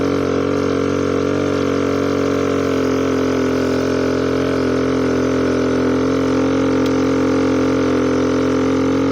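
A motorcycle engine idles while the bike rests on an uphill road, giving a loud, steady, close hum with layered tonal harmonics. It runs unbroken throughout and no one speaks.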